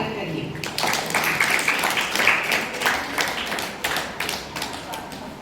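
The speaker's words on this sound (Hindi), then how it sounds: "जोरदार तालियों से स्वागत करिए" Audience clapping greets Grade IX students taking the stage for a Hindi play at a school academic carnival, a steady wash of many hands, fairly loud and continuous throughout.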